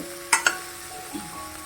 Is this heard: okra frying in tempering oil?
yes